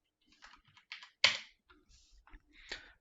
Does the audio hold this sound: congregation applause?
no